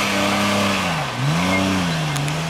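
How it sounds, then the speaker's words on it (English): A truck engine revs loud and close, pitch dipping briefly then climbing again in a sustained drone, during a snow run. "Darren's gonna give it a shot in Laverna's truck"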